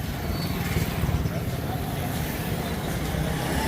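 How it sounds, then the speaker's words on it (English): Motorbike and car engines rumble through a bazaar street in Hazro, Pakistan, a dense, continuous roar of passing traffic at close range with no pauses. "as soon as 4 or 5 motorbikes appear, the sounds of roaring engines,"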